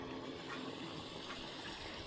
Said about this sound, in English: I'm going to show you the most beautiful waterfall we've seen all day.